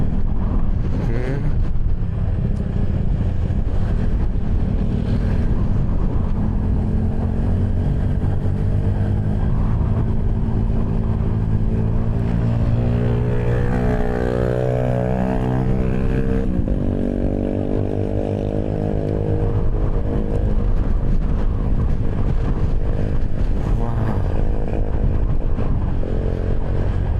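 Strong wind roars steadily against the microphone during a motorcycle ride on the route to Bromo from Malang, a loud continuous rush with engine drone underneath.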